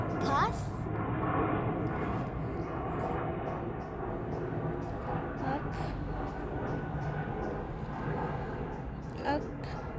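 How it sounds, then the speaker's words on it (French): An airplane passes overhead, a broad continuous roar lasting throughout, moderately loud and steady, with people talking over it at times. "Il y a un avion qui passe."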